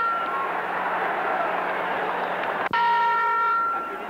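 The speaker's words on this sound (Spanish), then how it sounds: "cuando va a sonar la campana terminando" Boxing ring bell ending a round in a 1970 championship fight, struck once sharply mid-clip and ringing on with a clear metallic tone over loud arena crowd noise.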